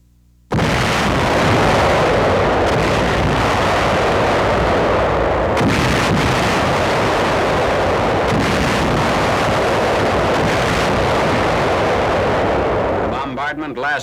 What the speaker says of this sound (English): The bombardment lasts 1 hour and 25 minutes.